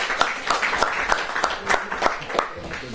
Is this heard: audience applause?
yes